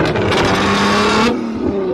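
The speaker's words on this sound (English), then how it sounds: "There's cars over there getting revved, you can hear" Cars revving at a supercar event in a parking lot full of Porsches and Lamborghinis, a loud continuous engine roar with rising and falling tones that eases off slightly partway through.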